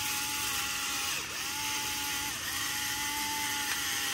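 A pepper grinder cranked by hand over a kitchen counter, giving a continuous, close, grating ratchet-like whir with a few brief hitches, running alone without talk.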